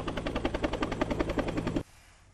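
An evacuation helicopter arrives at a community hall after the Noto Peninsula earthquake, its rotor beating in loud, rapid, evenly spaced thumps before the sound cuts off abruptly.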